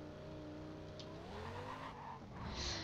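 A customized Lamborghini Gallardo in the racing game Need for Speed World drives with a steady engine drone and rising revs, with a brief tire squeal near the end, under constant game background sound.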